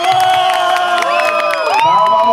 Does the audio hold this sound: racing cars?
no